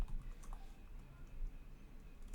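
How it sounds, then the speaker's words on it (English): Command typed on a computer keyboard, faint scattered key clicks in a short quiet run. "go ahead and type in npm install"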